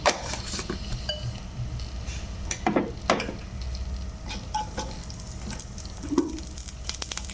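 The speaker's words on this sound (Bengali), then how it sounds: "কি গরম হয়ে গেছে আমি একটু পাঁচ ফোড়ন দিয়ে দিলাম ওতে" Panch phoron spices sizzle in hot ghee with a faint, continuous hiss, broken by a few light clinks and scrapes of a utensil against the pan.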